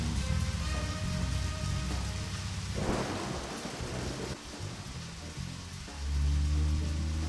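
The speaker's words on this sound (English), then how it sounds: "The rains have come." Steady rain falls with rumbling thunder inside the Deadly Premonition video game, a dense wash of downpour that swells in the middle and deepens into a low roll near the end, with no voices.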